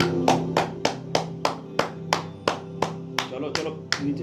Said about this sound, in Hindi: हाथ और पैर दोनों मिला के ताली बजाओ